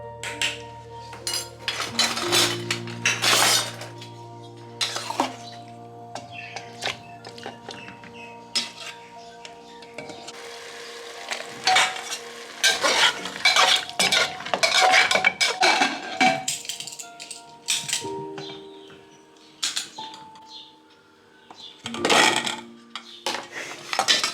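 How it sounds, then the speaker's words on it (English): Potatoes are mixed with leftover marinade in a bowl while chicken kalia is being made, giving clinking, scraping metal-on-dish knocks at an irregular pace, close and clear, with birds chirping faintly behind. "he's going to mix the potato with the leftover marination"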